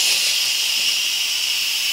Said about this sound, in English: I'm quick releasing the steam now